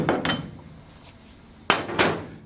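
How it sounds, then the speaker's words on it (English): Hammer blows land on a rusty 1957 Chevy steel roof panel backed by a dolly, sharp metallic strikes in two close pairs, ringing briefly, with no talk. "I'm gonna have to hammer this."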